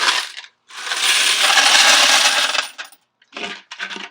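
Coins from a car wash bay pour into a coin counting machine in a long, loud metallic rush, followed by two shorter clattering bursts after a brief pause.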